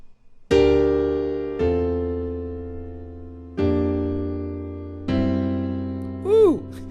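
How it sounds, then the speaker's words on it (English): Four sustained piano slash chords struck one after another and left ringing, with a brief vocal-like pitch slide near the end. "In the intro, there are 4 chords in a row, and they're all slash chords."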